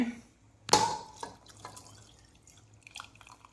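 A sharp splash as a spice paste mixed with water is poured into a pot of sambar, followed by scattered drips and small clinks, close by and otherwise quiet.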